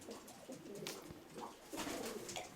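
Soft cooing from nearby dancing pigeons, low murmuring calls repeating over a steady rustling background.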